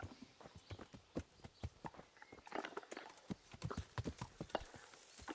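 Hooves of a horse in the medieval video game Kingdom Come: Deliverance clip-clop in a quick, uneven rhythm at moderate volume, clear and close with no talk over it.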